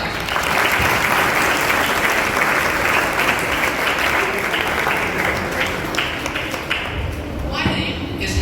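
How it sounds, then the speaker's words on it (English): An audience at a book launch applauds, a dense, continuous patter of clapping hands that holds strong for several seconds before thinning out toward the end. "Give me a loud applause and let's get this event started."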